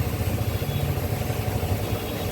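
A motorcycle engine running steadily nearby, a low rumbling idle with faint clatter that holds evenly throughout, with no talking.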